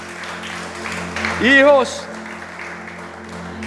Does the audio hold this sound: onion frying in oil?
no